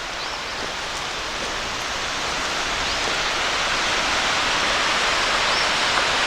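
Continuous broadband rush of falling water at Overall Run Falls, Shenandoah National Park, steady and moderately loud, heard from nearby.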